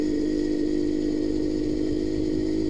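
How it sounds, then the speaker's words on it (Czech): Motorcycle engine, an armybetta, held at full throttle while losing power and struggling to pull away; a loud, steady, close drone without any rise in revs throughout. "já mám full gas a to se nechce rozjet"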